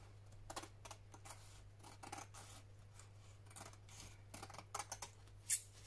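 Scissors snip through a paper planner page in a string of quick, quiet cuts close to the microphone, with a steady low hum underneath and a sharper click near the end.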